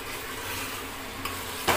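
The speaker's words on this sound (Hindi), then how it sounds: "अब आलूओं को भून लेते हैं थोड़ा सा" Potatoes for aloo tahari fry in a pan with a steady, close sizzle while a spoon stirs them, adding a couple of brief scraping clinks against the pan.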